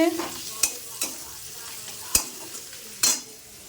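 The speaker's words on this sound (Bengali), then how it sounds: "এখানে পেঁয়াজ ভাজা হচ্ছে" Onions fry in a pan with a low continuous sizzle, punctuated by four sharp spatula scrapes and taps against the pan; no voices.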